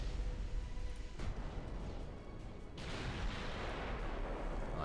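Naval gunfire booms in the Ultimate Admiral Dreadnoughts naval game during a convoy raid, a dense rumbling barrage with a sharper burst partway through and another near the end, loud and continuous.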